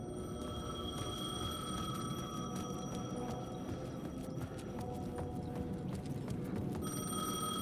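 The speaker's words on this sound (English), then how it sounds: "The payphone was ringing." A payphone rings in the video game Alan Wake 2, its bell tones repeating steadily against a dense, continuous ambient game backdrop with no voices.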